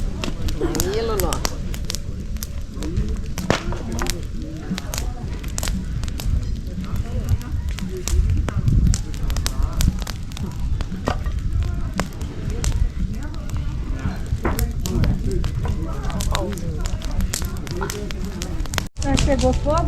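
An outdoor bonfire burns on a country farm with steady roaring flames and scattered sharp crackles and pops throughout, while people talk nearby and wind gusts through.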